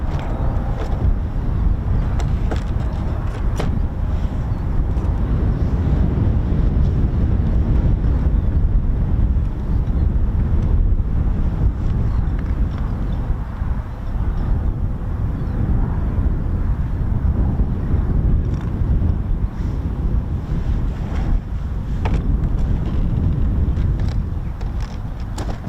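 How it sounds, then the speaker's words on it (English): Strong wind at RAF Marham airbase buffeting the microphone with a loud, continuous rumbling roar that surges and dips without letup for the full stretch, with no talk over it. "Really windy."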